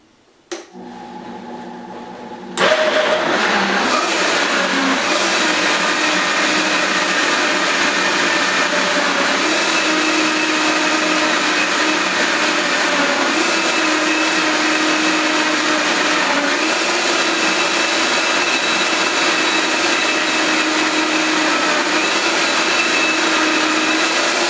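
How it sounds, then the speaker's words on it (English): A blender mixing mojitos starts with a short burst, then settles into a loud, steady, high-pitched whirring roar that runs without a break. "It really just depends on the blender that you have."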